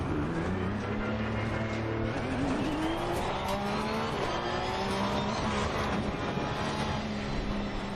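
Race car in the ACC racing game pulls out of the pits at Brands Hatch, engine note climbing through gears with shifts and rising revs, loud and close with faint tire squeal, no voices.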